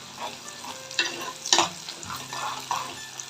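Garlic sizzling in hot oil with onion, a dried red chili and curry leaves for a mango gravy, crackling steadily while a spoon stirs and scrapes the pan in a few distinct strokes.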